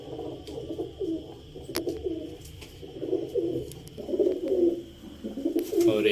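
Home-bred pigeons with chicks, in Lahore, coo in repeated low, rolling phrases, close and clear, with a few light taps and rustles between calls.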